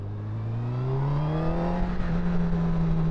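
A 2018 Honda CB1000R motorcycle accelerates out of a bend on the road, its engine note climbing steadily in pitch and growing louder as it pulls hard.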